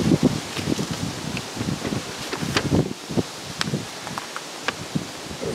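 Wind blowing across the open ground of an old World War II airfield, Deopham Green, with a steady rustling buffet and gusty flutter on the microphone throughout, no voices.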